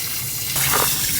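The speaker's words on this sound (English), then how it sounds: "we've got an outdoor shower over here that actually puts out hot water" Hot water gushing from an RV's outdoor shower on a freezing winter day, a steady rushing spray that swells louder partway through the short stretch, with no talking.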